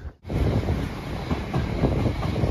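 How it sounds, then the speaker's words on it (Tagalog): Train passing near Brighton Beach in Australia, a steady loud rumbling roar with rattling wheels and wind buffeting the microphone, continuous after a brief dip at the start. "Train guys."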